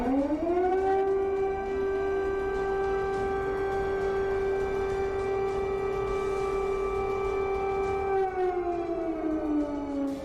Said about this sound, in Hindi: चौबीस घंटे से व्हाइट हाउस में सायरन बज रहा है।